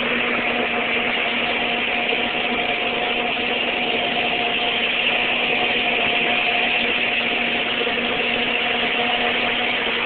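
A Ford 8N tractor engine idles steadily and fairly close for the whole stretch, a continuous even drone with a faint hum and no voices over it.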